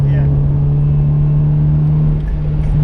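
A car's engine drones loud and close from inside the cabin while it holds fourth gear through a tricky bend, a steady sustained hum with a slight lift near the end; the car has refurbished brakes, braided lines and a short shifter.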